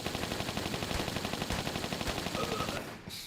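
Dense, sustained automatic gunfire from the Tomb Raider III Remastered video game, a rapid continuous stream of shots that stays loud for about three seconds before cutting off abruptly, with no talking.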